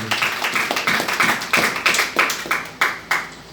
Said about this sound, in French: Est-ce qu'on peut acclamer très très fort pour la parole de Dieu?